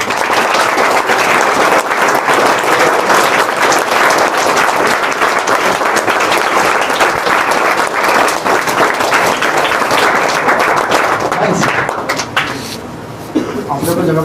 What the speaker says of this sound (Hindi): एक बार पूरा इनकी पूरी टीम के लिए जोरदार तालियां।